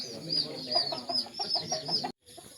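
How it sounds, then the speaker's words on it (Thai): Chickens and chicks cluck in a coop on a small Thai farm, with rapid repeated clucks and high peeping running together at close range, then a brief cut of silence. "ลูกไก่ลูกกระเจี๊ยบต้องเอามาเลี้ยงในสุ่มครับ"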